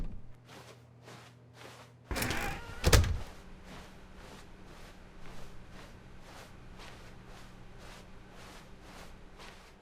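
A door opens in the video game The Stanley Parable, heard as a loud thudding swing over a steady run of evenly paced footsteps that continue before and after.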